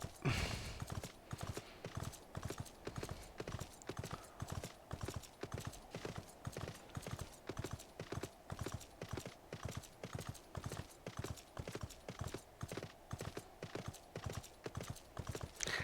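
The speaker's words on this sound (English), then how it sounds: "I'm actually a big fan of these Garo mounts. They sound like horses." Mechanical Garo horse mount trotting in an online crafting game, steady rhythmic clip-clop hoofbeats repeating evenly and close up for the whole stretch, with a brief whinny near the start.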